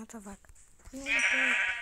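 Sheep bleat in a video game, a short bleat followed by a longer wavering one, heard over a person talking.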